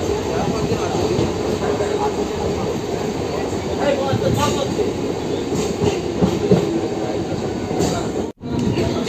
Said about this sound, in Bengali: আমাদের ট্রেন এসে পৌঁছালো বাংলান স্টেশনে